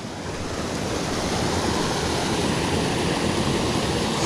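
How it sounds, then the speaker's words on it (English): Steady, loud roar of a waterfall on Wolf Creek in Vogel State Park, a broad continuous wash of rushing water that stays even throughout with no voices. "This is that waterfall we were hearing."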